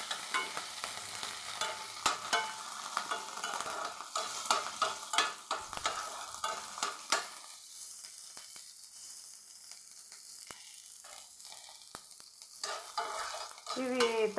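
Tempering spices frying in hot oil in a pan, a continuous close sizzle and crackle with stirring, busier at first and then settling to a quieter hiss before a few sharper pops.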